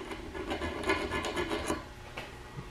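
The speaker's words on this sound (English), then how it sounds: "grab a file. I don't know why there's a burr there." A metal file works a burr on the drive shaft U-joint of a '69 Dodge Dart, giving a close series of quick rasping scrapes with a brief pause near the end.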